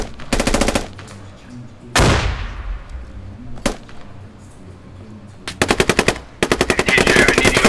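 Automatic gunfire in the tactical shooter Squad, several sharp rapid bursts, close and loud, separated by quieter stretches with distant reports.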